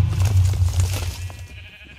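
A Minecraft sheep bleats in a short, wavering cry, fairly clear and close, fading out after about a second and a half with no talk over it.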